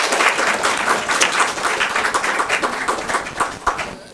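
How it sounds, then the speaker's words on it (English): Audience at a Franklin Township, New Jersey council meeting applauding in honor of the assistant township manager, a steady crowd of many hands clapping that holds evenly for about four seconds in an indoor meeting room. "yes, we can all clap."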